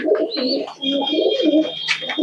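Several pigeons coo close by in soft, repeated throaty calls, with faint higher chirps mixed in and no talking.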